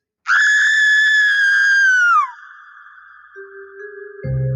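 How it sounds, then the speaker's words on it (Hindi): A woman's loud, piercing scream in a Hindi horror story, one long sustained shriek that falls away at the end, followed by a faint eerie drone and a low thud. "प्रियंका पूरे जोर से चिल्लाई।"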